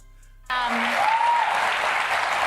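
An audience breaks into applause after a brief quiet moment, a dense, even wash of clapping that carries on steadily to the end.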